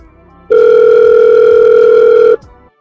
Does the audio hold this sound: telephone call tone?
yes